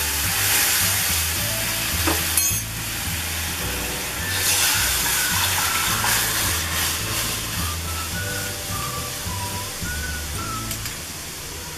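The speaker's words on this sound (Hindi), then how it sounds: "अब एक कढ़ाई लेंगे, इसमें 1 चम्मच मक्खन डालेंगे। अब इसमें ये सूप डाल देंगे।" Tomato soup hitting melted butter in a kadhai sizzles loudly and steadily, a continuous frying hiss with a low rhythmic rumble underneath and a few brief clinks, no voices.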